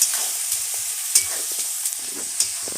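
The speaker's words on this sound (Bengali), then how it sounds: "একটু নাড়ানাড়ি করে নিতে হবে।" Fried soybean chunks and potatoes being stirred into a coconut milk curry in a pan for a Bengali soyabean malaikari, with steady sizzling and a few scraping spoon strokes throughout, close and fairly loud with no talking.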